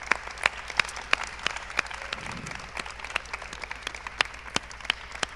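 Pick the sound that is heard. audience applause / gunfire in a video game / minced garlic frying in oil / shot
audience applause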